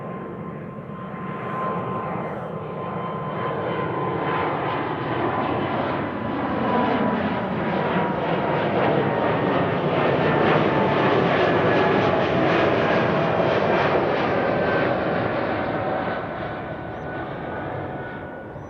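An Air Baltic Airbus A220-300 jet bound for Riga makes a loud, steady roar at Amsterdam Schiphol, swelling slightly as it passes near and easing off at the end, with no voices.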